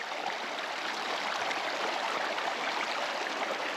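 River water rushes steadily at a shallow river crossing, a close, even, broadband wash of flowing current with no pauses and no voices.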